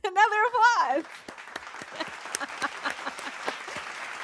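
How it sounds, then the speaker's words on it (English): Scattered applause from a small group of fans during a live stream, a run of sharp individual claps following a stretch of speech, moderately near and fairly light. "Another applause."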